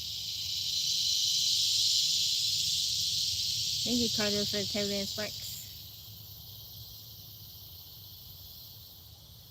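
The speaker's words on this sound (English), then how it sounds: "Them cicadas, you hear that surge of sound they do, and then they quiet." Cicadas buzz in a steady broad band that swells and then eases back, heard at outdoor live-stream distance while someone speaks briefly over it.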